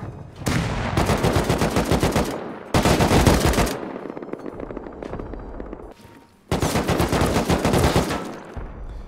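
Auto turrets in the video game Rust fire in three long, loud rapid-fire bursts of close automatic gunfire, separated by brief quieter gaps.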